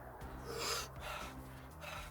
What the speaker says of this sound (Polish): Głęboko oddycham. Oddech jest bardzo ważny.